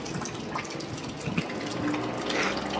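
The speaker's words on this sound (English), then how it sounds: "It's basically a little water fountain." Water running steadily from a small outdoor drinking fountain near an old wishing well at Silver Lake, a continuous close splashing trickle with no talk.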